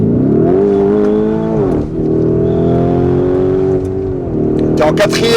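A Lamborghini Urus Mansory accelerates hard with its engine loud and close. It gives a sustained, rising roar that drops briefly at a gear change and then climbs again, with a few sharp crackles near the end.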